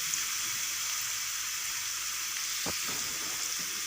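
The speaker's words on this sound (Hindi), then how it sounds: "अब इसमें हम लहसुन अदरक का पेस्ट डाल देंगे और थोड़ा सा इसको हिलाएंगे" Garlic ginger paste frying with onions in a pan for baingan bharta, a steady close sizzle with a brief stir or scrape near the end.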